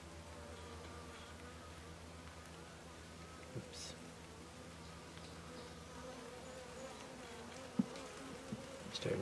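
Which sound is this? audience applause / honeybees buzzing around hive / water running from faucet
honeybees buzzing around hive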